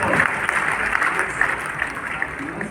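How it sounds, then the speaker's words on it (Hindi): A crowd at an Atomy India business event applauds to welcome a speaker on stage, with dense, continuous clapping that holds fairly loud for the whole stretch. "Please big round of applause."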